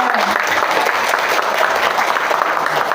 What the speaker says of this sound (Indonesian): Minta tepuk tangannya dong buat kalian